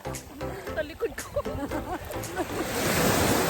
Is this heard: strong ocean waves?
yes